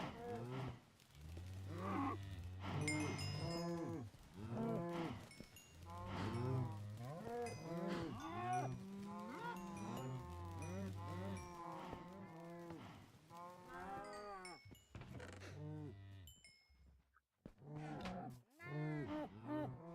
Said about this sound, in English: Let's get the cows humping.